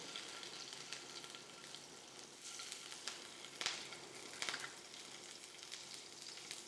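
Steady crackling sizzle of mustard seeds, garlic and green chillies frying in hot oil, with occasional sharper pops and spits, close up and continuous, no talking.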